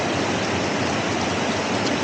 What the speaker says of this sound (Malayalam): ഇന്നൊക്കെ ഇപ്പോൾ നല്ല മഴ തന്നെയായിരുന്നു